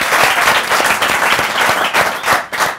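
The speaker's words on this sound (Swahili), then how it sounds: "Audience wetu pia wa studio, wapi makofi yenu?" Loud, dense applause from a studio audience at a Kenyan talk show, steady clapping filling the whole stretch with no voices over it.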